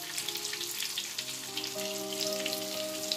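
Escalope cutlets frying in a pan with steady, close sizzling and crackling oil spatter, while faint background music plays and no one speaks.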